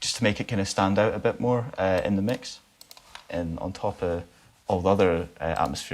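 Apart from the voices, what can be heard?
No everyday noises stand out.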